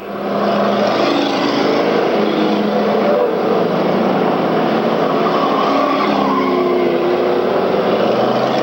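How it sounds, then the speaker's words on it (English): Race cars roar around an oval track during an endurance event, the steady, loud engine drone coming out of turn two and down the backstretch, filling the whole stretch without a break. "as he gets by number 3, Brian Constantine, coming out of turn 2 and down the backstretch"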